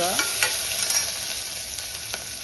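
Ginger-garlic paste, cumin, mustard seeds and asafoetida sautéing in a pan, a loud, continuous close sizzle with a few soft scrapes of stirring over it.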